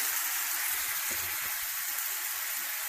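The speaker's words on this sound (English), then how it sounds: "and tri-tip steak. So we're just kind of searing that a little bit." Tri-tip steak sears in a pan outdoors at a roadside stop, giving a steady, close sizzle with light crackling spatters throughout and no talking.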